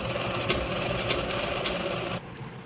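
A sewing machine stitches a saree fall in a rapid, loud, steady mechanical chatter that runs for about two seconds, then stops abruptly, leaving faint background noise.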